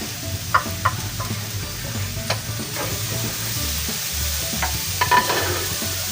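White onions fry and sizzle in a pan for pork sisig while a utensil stirs and scrapes them, with a few sharp clinks over the steady crackle; no voices.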